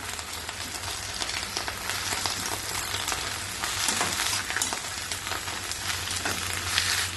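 Cooked toor dal is stirred into drumstick leaves frying in a pan, a continuous close sizzle with soft scraping strokes of the spoon running throughout, fairly even in level.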